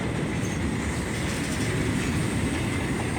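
A long Midwest Rail freight train rolls past at close range with a dense, steady roar of wheels and cars, alone and unbroken from start to finish.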